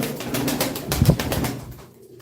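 Pigeons in a loft coo with close, low, throaty rolling calls in a rhythmic series, loudest near the middle and fading toward the end, alone without talk.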